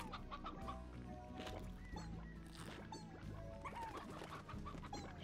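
Chickens in the video game Slime Rancher cluck repeatedly in short, overlapping bursts, fairly close, over a soft background of game music.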